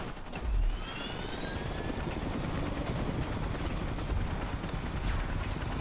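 Helicopter rotor and engine drone from the Toy Soldiers: War Chest video game, a steady continuous whir with faint game sound effects layered on top.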